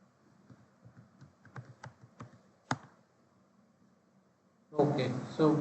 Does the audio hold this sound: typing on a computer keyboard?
yes